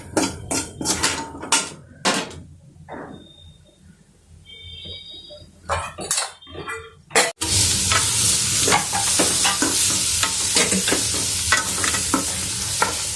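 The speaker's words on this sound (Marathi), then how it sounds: "आता फक्त बटाट्याची फोडी घालणार आहे आणि गरम पाणी घालणार आहे" Boiled potato pieces go into a frying pan for a dhaba-style potato curry, with utensil clinks and scraping, then hot water hits the pan with a sudden loud burst of sizzling that continues steadily under occasional stirring clatter.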